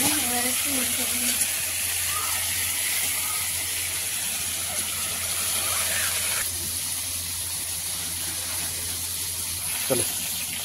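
Koi fish, just turned over in hot oil in a kadai wok, gives a continuous close sizzling hiss that stays even throughout, with faint voices and small clinks underneath.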